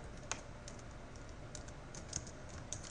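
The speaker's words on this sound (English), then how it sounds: "So I'm going to type in alpha" Typing on a computer keyboard, a few light, close key clicks in an irregular rhythm, faint and alone over a quiet room background.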